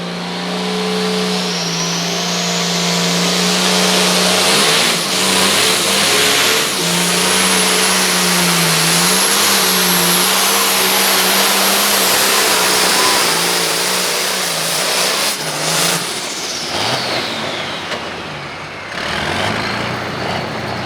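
A turbocharged pulling truck, limited to one turbo with a 4.5-inch outlet and running 24.5 by 32 inch tires, roars at a truck and tractor pull. The loud, sustained engine howl shifts in pitch with a rising turbo whine before easing off near the end.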